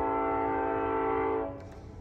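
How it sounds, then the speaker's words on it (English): A sustained train horn blast, loud and steady, cutting off after about a second and a half into rumbling rail noise. "Train coming."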